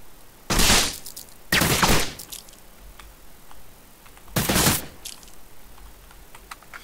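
Gunfire from a weapon in an Unreal Engine 4 first-person shooter demo, three loud bursts of rapid shots separated by short pauses, with quiet clicks and handling noises between them.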